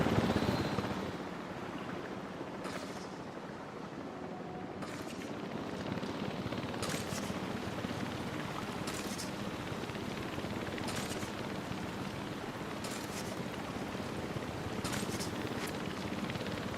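Helicopter rotor drone from the Jurassic World Evolution 3 game, with a chopper crew firing, sharp bursts of gunfire cracking at intervals over the steady whirring.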